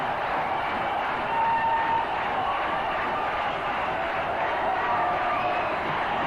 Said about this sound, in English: the crowd being entertained by this super hitting.